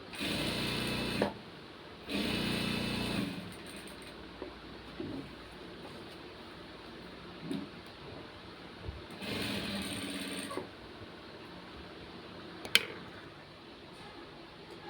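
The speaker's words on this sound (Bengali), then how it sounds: "আমি অলরেডি সেলাই স্টার্ট করে দিলাম।" Sewing machine stitching a join in fabric, running in a few bursts of steady whirring, the longest near the start and another later, with quiet handling sounds between runs.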